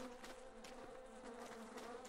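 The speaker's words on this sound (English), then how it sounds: "Killer bees." Killer bees in Don't Starve Together give off a steady, droning buzz that hums continuously at close range, with faint pulsing and no talking.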